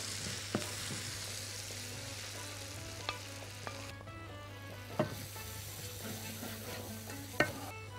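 Minced meat sizzles and fries in a pan for a shepherd's pie, a steady close crackle with occasional sharp clicks of a utensil stirring against the metal.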